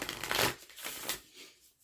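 Tarot cards are shuffled up close, a quick burst of papery riffling followed by a couple of softer flicks that fade out, with no talking.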